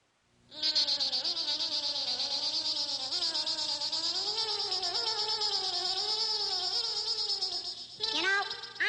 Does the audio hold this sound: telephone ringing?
no